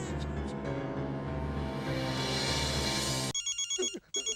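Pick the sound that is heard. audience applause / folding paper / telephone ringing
telephone ringing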